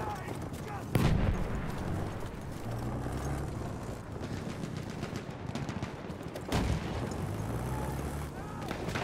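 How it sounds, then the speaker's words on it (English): A grenade goes off in Battlefield 1 amid ongoing gunfire, with two sharp, loud blasts standing out from a continuous battle din. "There's a grenade for him!"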